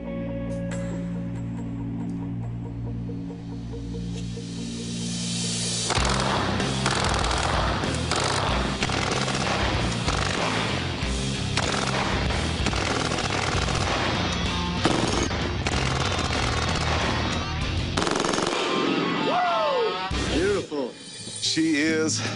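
A Thompson submachine gun rips off long bursts of rapid automatic fire at a quick test target area, loud and sustained after a quieter opening, with ringing echoes and a brief tail of hissing noise near the end.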